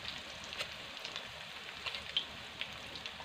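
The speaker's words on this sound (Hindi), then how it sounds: "इनको भी हम साथ ही फ्राई कर लेंगे" Pieces of coated fish frying in hot oil give a soft, steady sizzle with faint crackles and small pops scattered throughout, fairly quiet and alone without voices.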